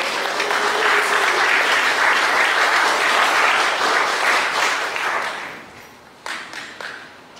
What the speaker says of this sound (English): Let's give God a hand clap of praise for all of our teachers.